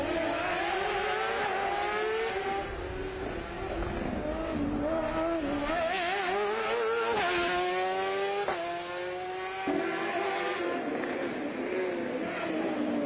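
An older Ford Fiesta fitted with a Hayabusa motorcycle engine revs hard and close, its high, buzzing pitch climbing and dropping through repeated gear changes, loud and continuous throughout.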